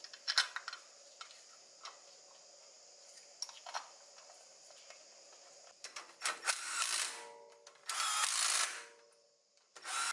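A power tool tightens the hub cover bolts on an Isuzu MU-X/D-MAX front wheel, quiet clicks and ticks giving way to short bursts of whirring, the loudest run near the end, with no speech.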